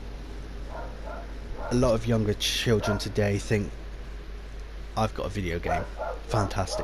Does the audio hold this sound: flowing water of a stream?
no